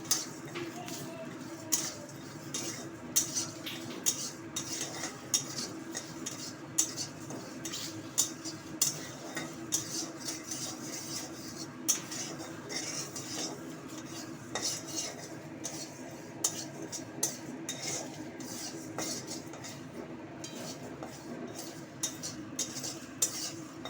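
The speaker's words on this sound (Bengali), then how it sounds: "ধনে, জিরে, গোটা গরম মশলা সমস্ত দিয়ে একটু নাড়াচাড়া করে নেব" Dry red chillies, coriander, cumin and whole garam masala stirred in a pan, with soft, repeated metallic clinks and scrapes of a spoon against the pan over a faint background hum, quiet and close.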